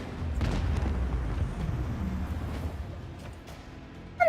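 Lance battery volley from a starship in the Warhammer 40K Rogue Trader video game: a loud, sustained rumbling boom that swells and slowly fades, with a sharp burst at the very end.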